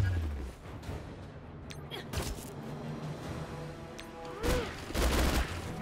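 Bursts of gunfire ring out in the mobile video game Marvel Strike Force, with sharp cracks and booms scattered over a busy layer of game music and effects.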